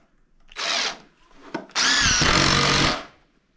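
A power drill drives screws into construction lumber on a bandsaw bench, two whirring bursts, a short one then a longer sustained run, with a brief knock between, close and loud.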